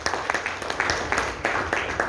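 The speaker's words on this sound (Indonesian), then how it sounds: "Tepuk tangan dong Pak buat gold coin." An audience claps at a gold coin presentation, a brief, even patter of hand claps at moderate loudness across the room.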